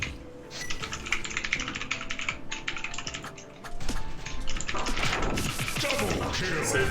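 Rapid computer keyboard typing clatters steadily throughout, loud and close, with game sound effects and a brief burst of louder crashing noise in the second half.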